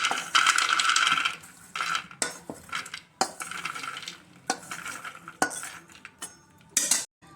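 Roasted dry fruits being scraped and scooped out of a pan with a metal spoon, giving repeated clinks, rattles and scrapes in irregular bursts with brief pauses, close and fairly clear.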